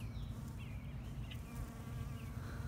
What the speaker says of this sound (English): Some happy bees.